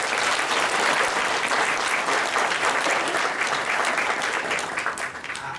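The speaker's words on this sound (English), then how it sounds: "Can we give them a round of applause" Audience applause at a youth awards ceremony in Hong Kong, a steady, dense wash of clapping that holds loud and even throughout before easing slightly at the end.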